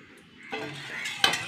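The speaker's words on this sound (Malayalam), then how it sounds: "ഇനി നമുക്കിത് ഒരു കുക്കറിലോട്ട് മാറ്റാം." Washed rice goes into a pressure cooker, giving a brief scrape and clatter of metal utensil against pot with a sharper clink near the end, close and fairly quiet.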